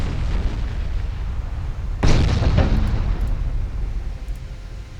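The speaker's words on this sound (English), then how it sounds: "There we go, scoring torpedo hits." Torpedoes strike warships in a naval battle from the Ultimate Admiral Dreadnoughts game, a single loud explosive boom landing about two seconds in, then a rumbling decay that fades over the next couple of seconds with no speech.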